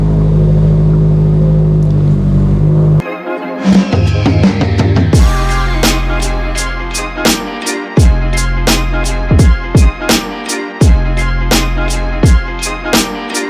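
New 2023 Subaru WRX with a fresh aero kit backing out, its engine idling loud and close before revving repeatedly in sharp bursts that echo between pauses, with no talk.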